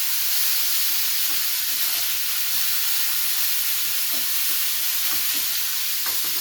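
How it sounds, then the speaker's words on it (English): Pasta stirred in a pot of boiling water, a continuous steamy hiss with faint, scattered knocks of the spoon, no one talking. "Don't forget to stir your pasta."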